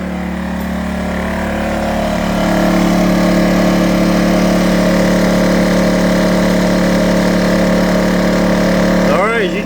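An I-Power 2300 portable generator engine runs under electrical load with a steady, loud drone that swells slightly partway through, ending in a brief squeal at the end.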